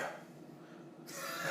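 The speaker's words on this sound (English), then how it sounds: "I was clearing my throat." A man clears his throat in a brief, raspy burst, rough and close, ending in a louder harsh rasp near the end.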